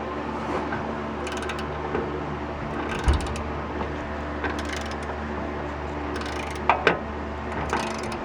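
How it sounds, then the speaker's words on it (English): A ratchet with a 1/2 inch swivel socket works on the passenger side of a Ford Windstar rack and pinion near the catalytic converter: several short bursts of close, clicking ratcheting against a quiet garage background. "we got a 1/2 inch swivel on the passenger side to get by the"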